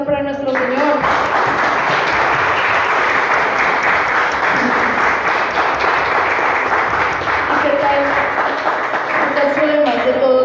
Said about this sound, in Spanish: ahora sí vamos a aplaudir a nuestro Señor